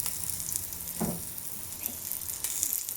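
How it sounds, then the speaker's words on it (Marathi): Rolled leftover chapati sorba frying in oil on a griddle, giving a soft, steady sizzle with a few light scrapes and taps, close but fairly quiet, no voices. "तव्यावर तेल टाकलंय, मी असं रोल करून याची भाजायला टाकली याच्यामध्ये शिळ्या चपातीचा सोरबा."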